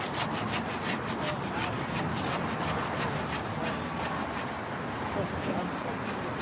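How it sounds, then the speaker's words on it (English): Someone saws by hand in rapid back-and-forth strokes, a steady rasping rhythm of rubbing on wood that carries on throughout, with talk over it. "This guy's like sawing something."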